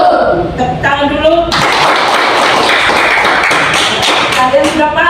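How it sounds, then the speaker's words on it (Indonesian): A classroom of students claps together during a maths lesson, a dense, steady burst of hand claps lasting several seconds, with some voices mixed in. "tepuk tangan dulu"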